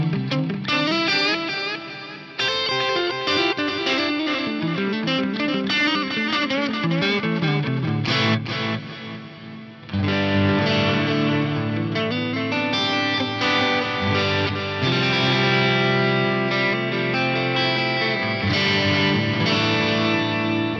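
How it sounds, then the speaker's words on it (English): Electric guitar run through a Fractal Axe-Fx with a big reverb and long echo effect, steady chords and notes washing into a dense, smeared tail, with one brief dip before the playing swells again, alone without talk. "you can use this as a verbed out echo"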